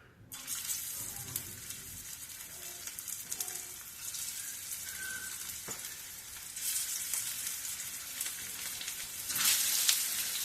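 Stuffed bitter gourd pieces fry in hot oil in a pan, a continuous close crackling sizzle that swells with bursts of spitting as pieces are added, alone with no talk.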